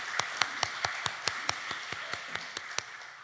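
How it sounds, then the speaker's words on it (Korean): A church congregation gives the Immanuel choir a round of applause after its hymn at a Sunday service, heard as a brief run of about a dozen distinct, evenly spaced claps rather than a full ovation. "우리 임마누엘 찬양대의 귀한 찬양 다시 한번 감사의 박수 보내드리겠습니다"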